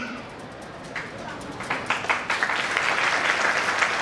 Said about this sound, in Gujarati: તાળીઓથી વધાવી